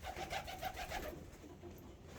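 Pigeons coo in a coop, the rhythmic, throaty calls repeating steadily at close range for the first half before trailing off into quieter murmurs and background hiss.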